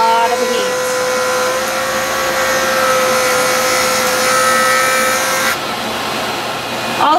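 JoolTool rotary wheel spinning at high speed while shaping and polishing a piece of metal, a steady whining tone with grinding hiss throughout that cuts off sharply near the end.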